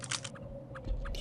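A creature in Half-Life feeding on a meal, with close, wet chewing and crunching bites repeating in a quick irregular rhythm.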